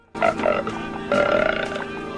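Two loud, drawn-out burps, one right after the other, each croaking and gurgling, with nothing else around them.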